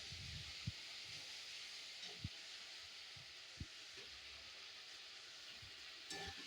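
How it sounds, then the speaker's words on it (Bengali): Chicken and spices stir-fried in a pan, a soft continuous sizzle and hiss with several sharp clicks of a spatula scraping the pan, heard up close and fairly quiet. "এই দেখো রান্নায় দেখো মশলা কষাচ্ছি"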